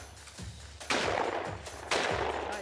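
Two loud shotgun blasts fired outdoors at hand-thrown clay targets, each a sharp crack followed by a long, ringing decay, about a second apart.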